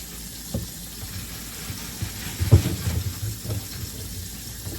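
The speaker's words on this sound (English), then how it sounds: "just run our carrots under water." Tap water runs into a sink over carrots, a continuous faint splashing hiss with a few louder gurgles and spatters as the carrots pass under the stream.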